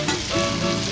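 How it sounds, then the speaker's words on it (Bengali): Bitter gourd fries in hot oil with a steady, close crackling sizzle, heard alone without voices. "আর এই উচ্ছে বা করলা আগে ভেজে নিলে এর তেতো ভাব একটু কমে যায়"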